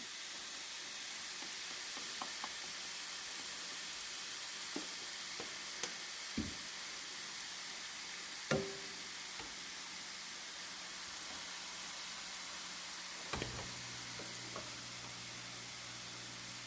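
BBQ pork sizzles and fries in an already hot pan on medium heat, a steady close hiss with a few soft taps and stirring clicks.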